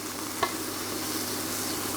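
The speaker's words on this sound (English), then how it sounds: "That's just really nice amount of sizzle." Lamb pieces dry frying in a pan over medium-high heat, giving a steady close sizzle with one brief stir or clatter near the start and no talk.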